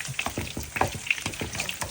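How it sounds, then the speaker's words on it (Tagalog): Ginger toasts in a pan with a steady close sizzle, punctuated by repeated soft scraping stirs in a regular rhythm. "Tinutustus yung ginger."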